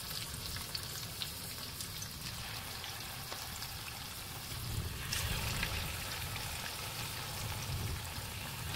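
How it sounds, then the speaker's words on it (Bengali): Fish sizzling and frying steadily in hot oil in a pan, a continuous close crackle with scattered pops that swells slightly louder partway through. "তেলটা কিন্তু এখন আমার গরম হয়ে গেছে আস্তে আস্তে আমি মাছগুলো দিলাম"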